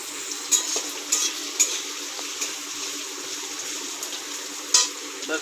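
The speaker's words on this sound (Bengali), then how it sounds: "এখন একটু এটাকে নাড়তে হবে, পেঁয়াজটাকে যাতে ভালো মতো ভাজতে পারি" Onions and garlic fry in a pan with a steady, soft sizzle, broken by occasional scraping clinks of stirring close by.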